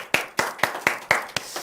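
A small audience at a children's quiz event gives a short burst of sharp, evenly spaced hand claps, about seven crisp beats close by with no talking.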